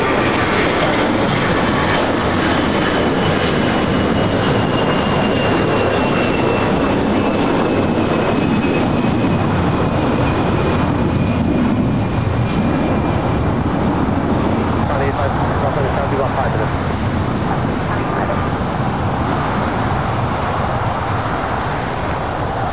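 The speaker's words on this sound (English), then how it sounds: "China Airlines cargo 777 freighter next arrival on 25 left." A China Airlines cargo Boeing 777 freighter landing on runway 25 left at LAX, a loud, continuous jet roar with a faint descending whine that sustains throughout, heard outdoors with some background traffic.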